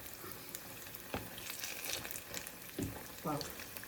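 Banana fritters (pazham pori) made from ripe plantain in fluffy batter, frying in hot oil with a faint, steady sizzle, broken by a few sharper bubbling bursts and clinks, with soft talk nearby.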